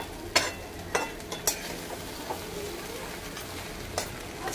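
Flattened rice poha with potato frying in a pan, with a soft, steady sizzle under a few sharp clicks and scrapes of stirring, fairly quiet and close.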